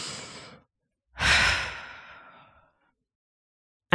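A slow, deep breath taken during a calming exercise: a short exhale, a pause, then a long, close, airy inhale-and-release that fades out gradually, with no talking.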